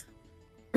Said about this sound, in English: I'm coughing like a madman.